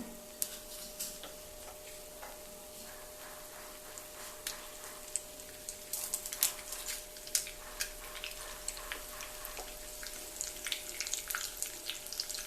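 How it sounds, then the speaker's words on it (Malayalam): Mustard seeds pop and sputter in hot ghee during tempering for a sweet Onam curry, with scattered sharp crackles that grow denser and louder toward the end and no voices. "അല്പം കടുക് ഇട്ട് കൊടുത്തിട്ടുണ്ട്."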